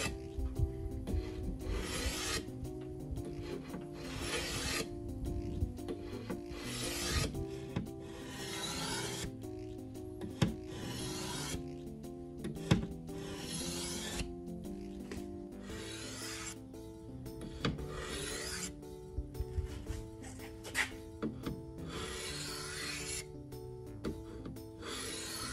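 Knife blade sharpened freehand against part of a car, repeated rhythmic scraping strokes with short pauses, fairly faint and close, with no talking.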